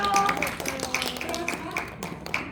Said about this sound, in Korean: 우리 시윤이한테 좀 박수 좀